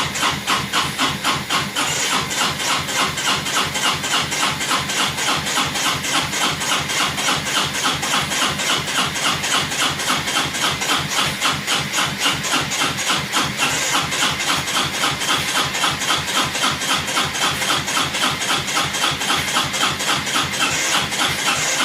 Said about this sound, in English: let's crank it by jumping across the wires at the solenoid here